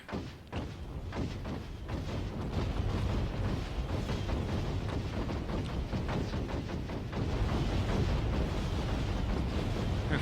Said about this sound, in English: It looks like Grenadier bombardment